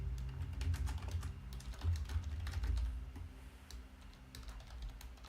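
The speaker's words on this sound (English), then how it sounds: "I can just hear us tapping away." Keys on a computer keyboard are typed in quick, irregular bursts of light clicks, close and fairly quiet, over a low steady hum, easing off toward the end.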